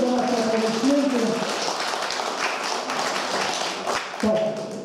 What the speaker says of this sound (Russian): Спасибо за наши аплодисменты